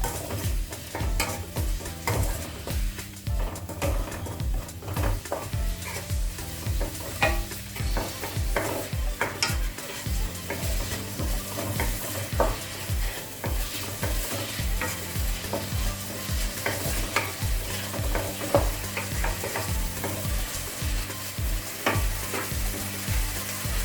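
Chopped onions and green chilies frying with salt until golden, a continuous crackling sizzle with a rapid, regular run of spatula scrapes and taps against the pan throughout, close and unvoiced.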